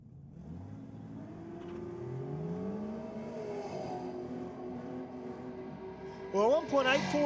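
A Ford Falcon drag car launches down a Sydney drag strip at night, its engine note climbing steadily as it pulls away and fades with distance, while a commentator talks throughout.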